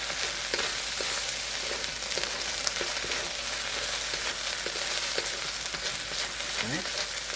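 Bacon fried rice with scallion sizzles steadily in a hot pan, a dense continuous crackle with faint scraping stir strokes, close and unbroken by speech.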